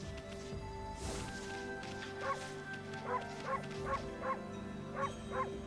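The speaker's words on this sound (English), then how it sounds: "I have a dedicated bark button." Dog barking in the video game Okami, a string of about six short, evenly spaced yips and barks over a faint game background hum.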